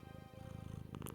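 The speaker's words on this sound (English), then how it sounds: "Would you introduce us to your cat?" Ella, a pet cat, purrs steadily and close with a fast, even rumbling throb, and a brief brighter rustle comes near the end.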